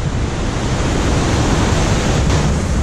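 The Puna Ella waterfall at Ramboda runs heavy with high water, making a loud, continuous broadband roar of rushing, falling water with no pauses and no voices.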